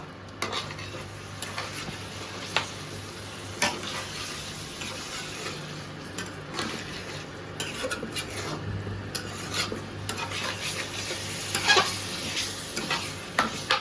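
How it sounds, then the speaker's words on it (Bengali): A spoon stirs a Bengali-style egg curry mixture with potatoes in a pan, scraping and rubbing steadily with soft sizzling frying underneath and occasional sharp clinks against the metal, close and continuous. "এবার ভালো করে এটাকে আলুটা দিয়ে আগে মিক্স করে নিই"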